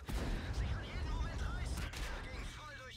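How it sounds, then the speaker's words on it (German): Tank cannon fire in the World of Tanks video game, with an enemy autoloader tank firing repeated heavy booms that are dense and continuous under a constant mix of battle noise and talk. "Zwei Schuss hat er gemacht."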